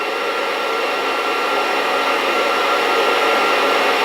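A Fresh Roast SR800 home coffee roaster blows hot air over beans in the drying stage, giving a loud, constant, close whoosh with no break.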